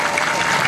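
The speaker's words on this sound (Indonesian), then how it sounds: "tepuk tangan untuk Indonesia" Applause from an audience at a West Java cultural gathering in Indonesia, a dense steady burst of clapping that fills the whole brief moment without pause.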